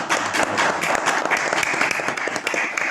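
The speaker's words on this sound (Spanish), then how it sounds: "desde aquí le damos un fuerte aplauso a Joana." An audience claps briefly in a steady patter of applause, moderately loud and close, with no speech over it.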